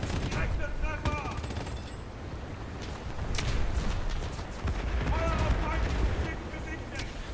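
A cruiser's naval gun firing in a ship video game, with repeated sharp, fairly loud blasts and rumbling reports spread across the stretch, while someone talks over the action.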